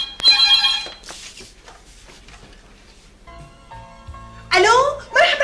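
A telephone rings loudly in a home with a bright trilling bell, first in a short burst near the start and again near the end, with quieter household sounds between.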